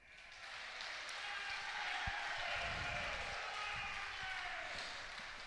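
An indoor crowd at a Scottish International Open bowls match breaks into sustained applause, a broad steady clatter of clapping that swells and slowly fades, with a single sharp knock near the start.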